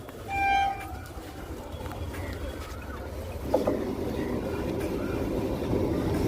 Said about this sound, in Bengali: ফাইনালি ট্রেন চলে এসছে